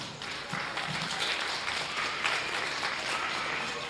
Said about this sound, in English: let's give those 6 individuals a round of applause